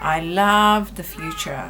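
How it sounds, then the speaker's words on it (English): A house cat meows once, loud and drawn out, close by indoors, and then a person starts speaking. "I think, excuse me, that is my cat."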